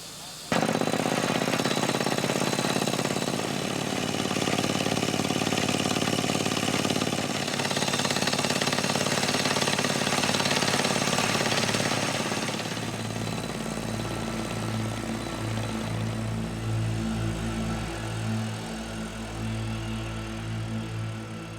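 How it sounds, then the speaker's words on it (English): A loud, continuous water well drilling rig roars with grinding mechanical noise as it bores through soil, sand and broken rock, then settles into a lower, throbbing engine drone with rhythmic pulsing. "the drill penetrates the soil, bringing sand and broken rocks to the surface."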